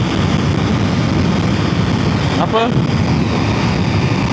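A Suzuki V-Strom 800RE motorcycle speeds along flat out in sixth gear: a steady, loud wind roar with engine rumble, unbroken throughout except for a brief tonal blip midway.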